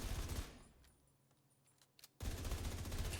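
Lexington assault rifle fire in the video game The Division 2, with a loud, dense automatic burst at the start and another after a quieter gap, both close and sustained.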